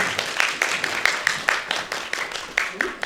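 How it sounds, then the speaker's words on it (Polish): Audience applause for a cosplay contestant at a convention, a steady run of dense clapping throughout with sharper individual claps standing out, no speech. "wielkie brawa dla naszego kolejnego uczestnika"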